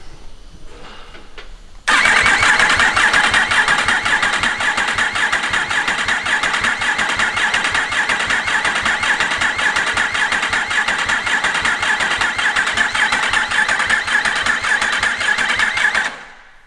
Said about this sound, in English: Make sure start motor's not getting too hot.